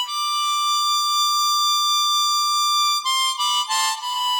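Bell-like guitar harmonics ring out long and pure through reverb, captured with a ribbon microphone, a sustained shimmering chord that decays slowly before a few brighter plucked notes at the end.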